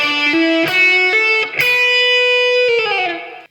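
Distorted electric guitar climbing a pentatonic scale through a few rising notes, then holding a long sustained high B root note that rings out and fades, loud and close.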